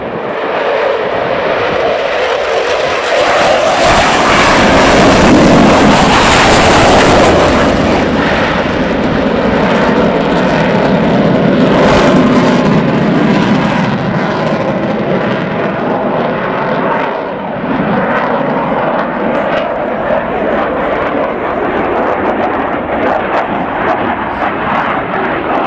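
Typhoon fighter jets at the Royal International Air Tattoo roar past, a loud, sustained, rumbling jet blast that swells and lingers for a long stretch, with a voice commentating over it.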